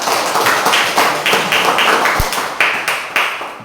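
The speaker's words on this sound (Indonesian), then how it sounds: "Tepuk tangan dulu untuk kelompok 1 ya." A class of junior high students claps for group 1 in a physical education lesson, a short round of fairly close, rhythmic hand claps without speech.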